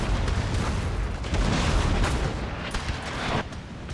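Cannons firing canister shot in a Total War battle set in the Thirty Years' War, a dense barrage of loud overlapping booms and crackling blasts filling the whole stretch without pause.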